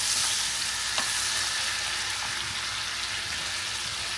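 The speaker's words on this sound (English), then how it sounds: "now we're going to give this a really good stir" Curry goat sizzles steadily in a pot as it is stirred, a dense, close, continuous frying hiss with a soft scrape or two and no talking.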